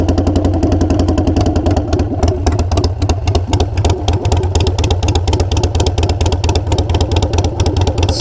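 A Harley-Davidson Iron 883 with Kinetic 540 Laterals exhaust running close by, a loud, deep, throaty idle with a steady loping pulse and slight rev swells.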